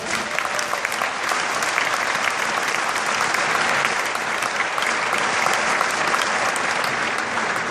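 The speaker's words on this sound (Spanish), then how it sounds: "¿Cuál es el aplauso que merece el segundo escalón, Juan Bautista?" A church congregation applauds steadily and loudly for several seconds, a dense, even wash of clapping with no pauses.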